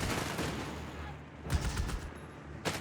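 Suppressing machine gun fire in Company of Heroes 3, a World War II strategy battle: continuous rattling automatic fire at mid distance with a couple of louder bursts and impacts, dense and unbroken throughout.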